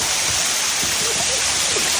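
Water rushes and flows in a constant, loud, broadband stream close by, like a small waterfall or fast stream, with no clear voices over it.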